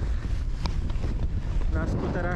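Snowmobiles ride at about 40 km/h through strong Arctic wind at night on Svalbard in -40°C cold. Heavy wind buffets the microphone, and a rising engine whine comes through near the end.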